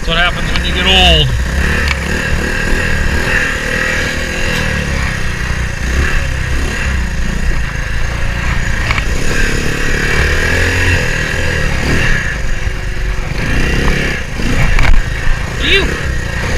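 A three-wheeler motorcycle engine revs steadily and loudly while riding up, down and around a steep hill, its drone holding throughout with brief surges, and a voice talks over it.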